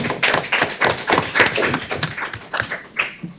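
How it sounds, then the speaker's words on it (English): Applause from the audience at a Board of Commissioners meeting, a dense run of claps close to the microphone with some louder individual hits standing out, lasting the whole stretch. "let's give a round of applause for that"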